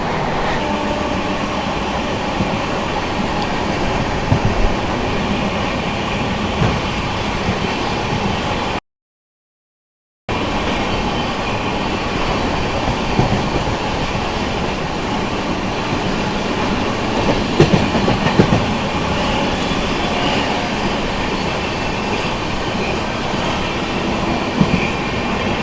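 Dakshin SF Express train (H.Nizamuddin–Hyderabad Deccan) running fast through a skipped station, a loud steady rumble with wheel clatter throughout, cut by a brief silent gap.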